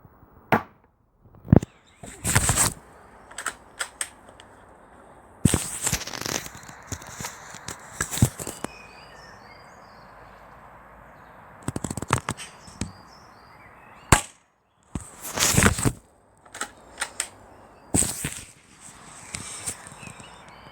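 Weihrauch HW110 air rifle firing JSB heavy pellets, a series of sharp, loud shots in irregular succession, each with a quick crack followed by mechanical clatter and handling noise between them, with no talking.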